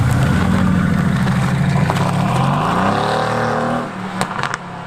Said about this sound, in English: It sounds so good as well when you boost it.